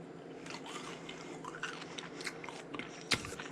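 Crispy skin from a Frenched pork rack roast bitten and chewed up close, soft repeated crunches in an irregular rhythm with one sharper crackle near the end.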